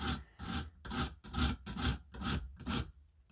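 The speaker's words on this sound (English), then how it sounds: "I just start going in the sweeping motions and getting your scratch pattern all pointed in the same direction" Steady back-and-forth rasping of an M390 steel knife blade swept across a sharpening stone, seven even strokes in a regular rhythm, close and clear with no voices.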